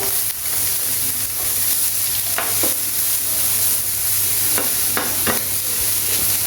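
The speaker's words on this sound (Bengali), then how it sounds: "এখন আমাকে ভালো করে নেড়ে ছেড়ে দিতে হবে।" Carrots, sliced meat and green chillies frying in a pan for noodles, giving a loud, constant close sizzle with a low steady hum underneath, while a few sharp scrapes and knocks of the stirring spoon cut through near the middle and end.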